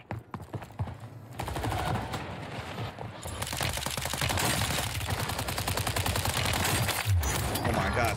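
Sustained automatic SMG gunfire rattles in Call of Duty on Rebirth Island, starting with scattered shots and building into long, dense, rapid bursts that stay loud and near throughout.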